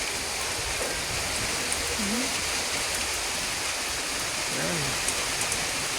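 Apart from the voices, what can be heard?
heavy rain and wind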